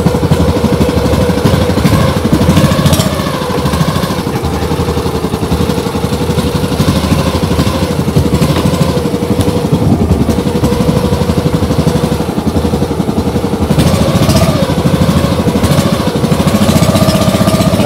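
A boat motor runs steadily and close by at night, pushing through floodwater choked with water hyacinth during the flood season, a constant droning engine with slight rises and dips throughout and no talk.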